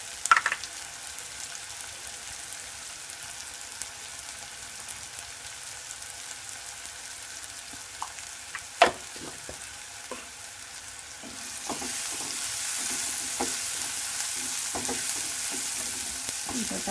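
A pan of frying rajma masala base sizzles steadily as turmeric powder is added and stirred in, with a few light clinks and scrapes, and the sizzle swells louder toward the end; no talking.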